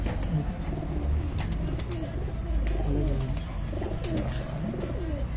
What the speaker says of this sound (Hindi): बड़ा कबूतर है जी मेरे को, एक क्लास अली वाला कबूतर है